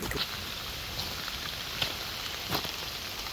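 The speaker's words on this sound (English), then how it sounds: "Taking a shower in the rain, in the middle of the woods" Rain falling in the woods after a storm, a dense steady patter on surfaces with a few sharper drips and knocks standing out at intervals.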